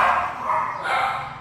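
Dogs bark near a house in a continuous, slightly muffled burst of overlapping barks and yips, with broad mid-range energy and no talk.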